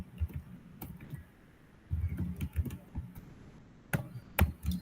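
Fingers type on a computer keyboard in a quiet room, producing soft, irregular bursts of clicking keystrokes with short pauses between runs, close and faint.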